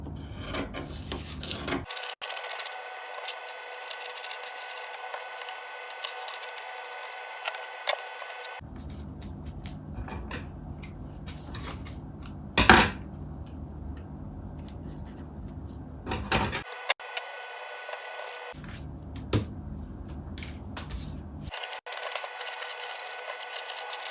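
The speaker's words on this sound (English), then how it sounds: "so now I'm going to be cutting out this pattern" Scissors cut through a paper sewing pattern for a jumpsuit bodice in repeated rasping, rustling strokes with brief pauses and a sharp snip or tap midway, close and fairly quiet with no talking.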